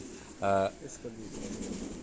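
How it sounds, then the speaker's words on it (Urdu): A Bateera-breed pigeon gives a short, loud, tonal coo close by, followed by quieter low murmuring and background speech. "یہ ایک دوسرا کبوتر جو ہے یہ بھی بٹیرا نسل میں ہے"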